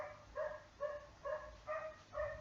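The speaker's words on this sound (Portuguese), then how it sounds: "Tem um cachorro, gente, que tá querendo participar da aula" A dog barks repeatedly somewhere off to the side during a math lesson, with five or six fairly faint, evenly spaced yips and barks standing alone and no talking over them.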